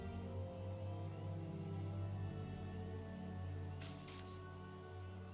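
Steady rain falling in the video game Final Fantasy XIV, a continuous dense hiss of drops under a humming backdrop, with a couple of brief sharper taps near the end.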